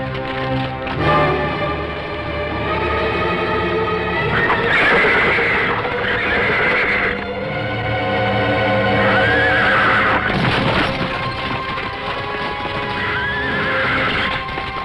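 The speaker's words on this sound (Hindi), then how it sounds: "वो रहा कृष्णा का घोड़ा।" A horse whinnies loudly several times in a busy market setting, its neighs rising over steady clip-clopping hooves and background crowd noise, with no speech heard.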